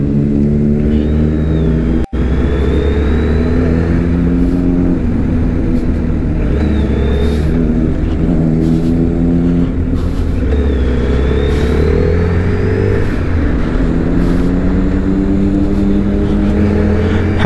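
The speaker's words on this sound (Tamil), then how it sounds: "அந்த சூப்பர் பைக் சவுண்ட்ஸை ஃபீல் பண்ணிகிட்டே வாங்க" A superbike's engine drones steadily as it is ridden along a hill road at Kolli Hills, its loud, close exhaust note rising and falling through gear changes and revs, with wind noise and no talk.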